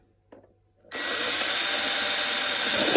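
Power drill boring through plastic for a homemade terrarium, a faint click and brief pause, then the motor whirs up loud and steady, holding a bright sustained whine to the end.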